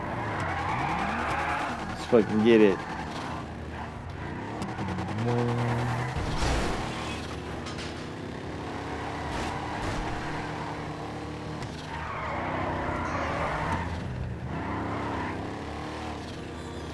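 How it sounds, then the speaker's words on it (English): Muscle car resembling a Plymouth Barracuda in Grand Theft Auto V, its engine revving and tires skidding and squealing, rising and falling throughout, with excited talk over it. "Such a cool muscle car. It's like the Plymouth Barracuda"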